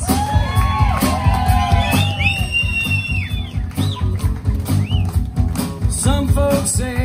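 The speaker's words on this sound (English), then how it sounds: "a warm round of applause to my brother from another mother" An audience at a live show whoops, shouts and cheers loudly alongside applause, a continuous crowd roar with rising yells and whistles over a steady bed of sustained music.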